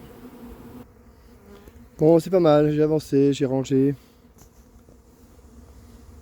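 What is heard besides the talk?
honeybee swarm buzzing around a hive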